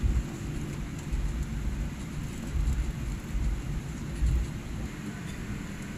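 Steady rain at Mumbai Airport with a low rumble throughout, heard from an aircraft before takeoff, fairly loud and constant, with no talking.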